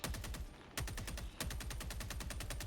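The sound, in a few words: gunfire at a robot in a video game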